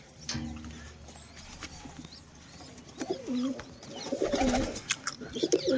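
Low pigeon coos rise in the second half as pigeons are released from a coop, close and repeated, mixed with fluttering and shuffling sounds and a faint background hum.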